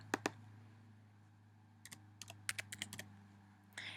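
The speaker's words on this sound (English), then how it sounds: "They will then type in their name." A name being typed on a computer keyboard: a few isolated key clicks, a pause, then a quick irregular run of taps, quiet and close against a low steady hum.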